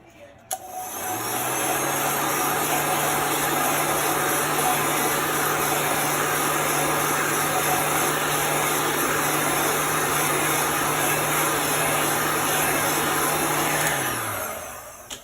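Hair dryer blowing steadily and loudly for about fourteen seconds to dry a freshly chalked craft sign, a continuous whooshing roar with a constant motor hum that starts and stops cleanly, with no talking over it.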